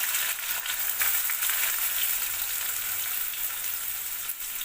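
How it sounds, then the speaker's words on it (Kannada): Chopped onions fry in oil with curry leaves for rotti upma, making a continuous, even sizzle close up with faint stirring. "ಈರುಳ್ಳಿ ಚೆನ್ನಾಗಿ ಫ್ರೈ ಆಗಬೇಕು ನೋಡಿ"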